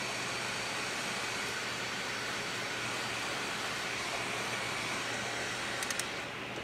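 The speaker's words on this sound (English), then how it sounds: "Now I'm going to take my heat gun," A steady, loud rush of blown air from a heat gun with a constant motor hum continues throughout, unbroken and close.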